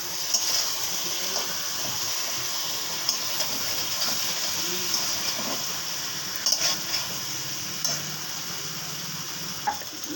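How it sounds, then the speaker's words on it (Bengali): Rupchand (pomfret) fish hits hot spiced masala in a pan with a steady hissing sizzle, broken by faint stirring clicks and occasional splashy pops, close and continuous. "এবার আমি সব মাছগুলো মশলার সাথে মিশিয়ে দিচ্ছি। দেখুন এভাবে ঢেলে দেবেন, ঢেলে মশলার সাথে ভালো করে মিশিয়ে নেবেন।"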